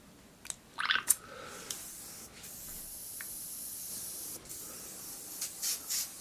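Hobby airbrush running at 20 psi, spraying brush-type paint in short hissing bursts between quiet gaps, close and fairly faint with no talking.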